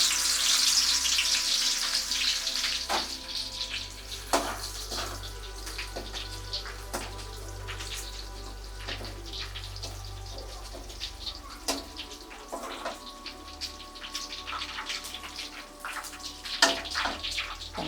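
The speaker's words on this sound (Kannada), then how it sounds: "ಎಣ್ಣೆ ಕಾದಿದೆ, ಬೆಳ್ಳುಳ್ಳಿ ಹಾಕೊಳ್ಳಿ." Garlic frying in a generous amount of hot oil gives a steady bubbling sizzle with scattered crackles and pops, close and fairly quiet, continuing throughout without talk.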